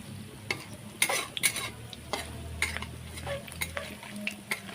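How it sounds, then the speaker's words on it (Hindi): Banana flower fritters (kachri) shallow-frying in a small amount of oil, with a steady close sizzle and repeated sharp clinks and scrapes from a utensil stirring in the pan. "इस तरह से हमारा जो है कचरी तल रहा है, या पकौड़ी कह लीजिए"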